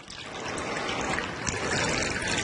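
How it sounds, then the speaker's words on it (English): Water pours steadily into a vase of decorative beads, a continuous close splashing trickle with no voices. "as we add the water, watch what happens"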